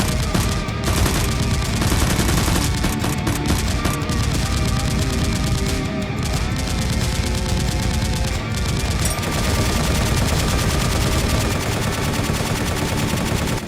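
Continuous rapid gunfire sound effect in a masked-hero toy gun fight, dense machine-gun bursts and overlapping shots running loud and steady throughout.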